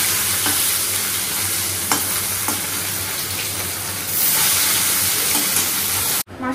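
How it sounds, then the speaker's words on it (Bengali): Fish fries in a pan of plentiful leftover oil, a loud, steady close-up sizzle with a few faint clinks that runs throughout and cuts off abruptly at the end. "প্রচুর যে তেলটা ছিল সেই তেলটাতেই মাছ ভাজা করছি"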